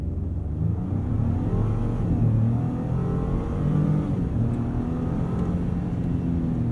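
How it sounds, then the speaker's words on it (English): A 2021 Ford F-150 PowerBoost hybrid with a 3.5 EcoBoost engine accelerating hard from a standstill in sport mode, a steady engine rumble building under cabin noise with no talk. "Let's do a little 0 to 60 here and see how we do."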